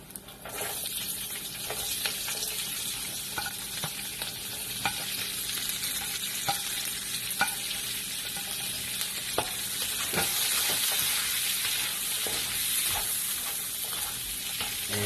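Garlic and onion sauté in a little oil in a pan, giving a steady sizzle throughout, broken by light clicks and scrapes of stirring, with no talking.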